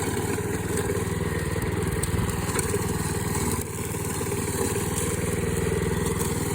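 A lawn mower fitted with a cable in place of its blade runs steadily nearby, its engine holding a constant, droning idle-like note with little change throughout.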